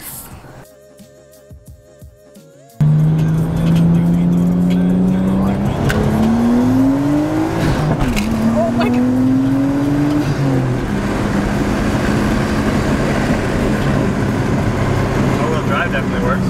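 A four-wheel drive vehicle, a JDM Toyota Hilux Surf, starts up loudly after a quiet moment and drives on with a steady engine drone that rises in pitch as it accelerates, continuous for about fourteen seconds.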